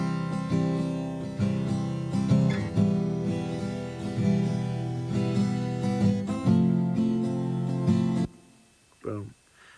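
Two doubled guitar parts, the same line recorded twice and panned slightly left and right, strum steady layered chords for about eight seconds before cutting off abruptly, leaving a brief fading note.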